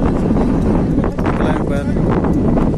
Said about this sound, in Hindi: इधर अच्छी खासी तेज़ हवा है